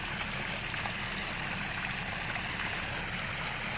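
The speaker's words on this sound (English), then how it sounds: "you've got the stream, a series of waterfalls coming down and dumping into the pond." Steady, close rush of water from a stream tumbling down a series of small waterfalls into a backyard pond, a continuous broadband splash with no talk over it.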